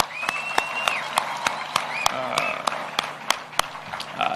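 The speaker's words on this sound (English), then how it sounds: "Can we clap for those girls?" Audience applause at a State House event in Kenya, a steady wash of clapping with sharp individual claps standing out, heard while the room's crowd noise continues.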